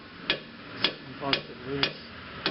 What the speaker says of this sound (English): Also, occasionally give this caliper a few taps.